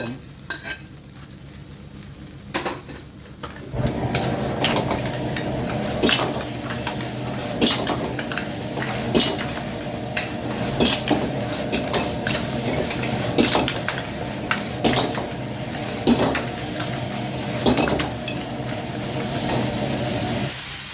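Mussels stir-fried in a pan with chili paste, vegetables and basil, giving a steady loud sizzle with repeated scraping clinks of the utensil against the pan, starting quieter before the heat builds and holding strong to the end.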